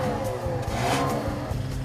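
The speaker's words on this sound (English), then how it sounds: "It's a turbocharged engine." A turbocharged four-cylinder 2015 Chrysler 200 engine drones steadily and builds under load while accelerating, a throaty mechanical hum close by with no talking.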